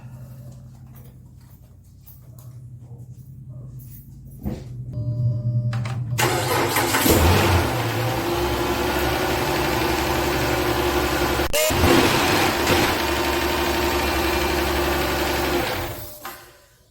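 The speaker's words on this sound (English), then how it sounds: "I got it back together. Let's see how it runs" A Chrysler 300 engine cranks, catches and roars to life, then settles into a steady, fairly loud idle that runs for about ten seconds before cutting off.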